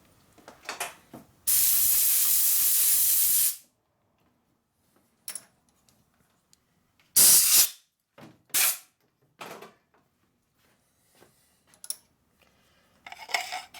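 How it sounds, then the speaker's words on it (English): Aerosol lubricant sprayed onto a tap while threading parts in a 1972 Harley-Davidson FLH 98ci shovelhead stroker motor rebuild: one long two-second hiss, then a shorter burst, with clicks and small metallic handling noises between and no talking. "put some lubricant on it, because now it's dry"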